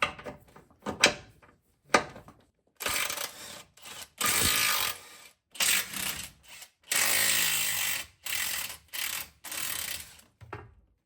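Ratchet working 15 mm bolts off the sway bar brackets on a second-generation Ram truck during a lift kit install, close and loud, in repeated clicking bursts separated by short pauses.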